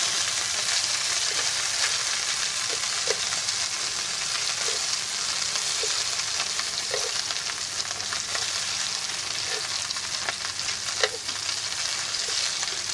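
Scallops sear in a hot pan, giving a loud, steady, close sizzle and crackle that runs without a break and has faint scattered pops.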